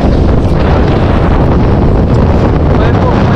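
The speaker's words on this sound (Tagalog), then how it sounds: "Ngayon po ay mahangin. Sobrang hangin po ngayon." Strong wind at sea roars continuously into the microphone, a loud, dense buffeting rush with no break throughout.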